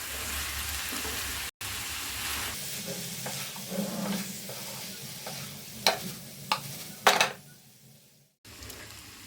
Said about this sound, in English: Be careful while mixing, otherwise the paneer pieces might break.